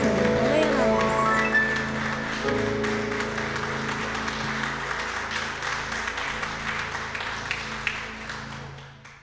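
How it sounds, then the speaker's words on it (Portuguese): A church congregation applauds loudly in worship, a dense, sustained wash of many hands clapping that continues for several seconds and slowly fades toward the end. "Que você possa aplaudir bem forte ao Senhor Jesus"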